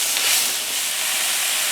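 Fresh wild shredded spinach cooking in a hot pan, a loud, steady, close hiss of steam and sizzle filling the whole moment without pause.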